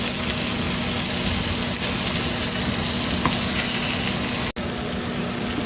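Short ribs brown in a hot pan, giving a steady, close, even sizzle that holds without a break except for one sudden dropout near the end.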